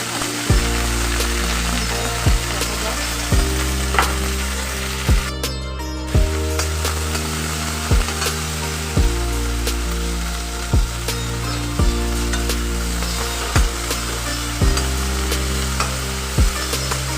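Dhekia fern greens frying with madhusoleng in a pan, a steady close sizzle broken by regular scraping stirs every second or so, with no voices.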